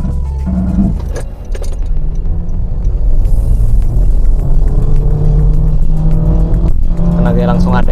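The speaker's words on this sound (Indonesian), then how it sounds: "kita mau coba 0 sampai 100 Honda HR-V ini." Honda HR-V Prestige pulling hard from a standstill to 100 km/h on an empty road, a steady loud engine drone building from inside the cabin with a brief rattling jingle near the start and people talking over it.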